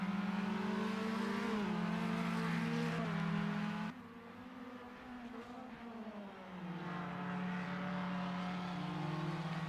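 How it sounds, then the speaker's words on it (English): F3 and Formula Inter open-wheel race cars lapping Interlagos, a steady loud engine drone with shifting pitch as cars pass and rev, dipping briefly midway, continuous throughout. "having to lap these slower Formula Inter cars."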